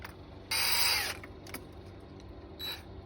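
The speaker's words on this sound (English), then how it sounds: "We're gonna go on ahead and drill some more out of this hole." A power drill whirs briefly for about half a second, followed by a few clicks and a second short burst, close and moderately loud.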